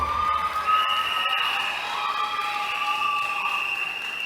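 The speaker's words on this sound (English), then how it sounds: "Give yourself a round of applause." A crowd at a political meeting cheers and shouts with sustained raised voices and a few claps, a steady, fairly loud wash of noise for about four seconds.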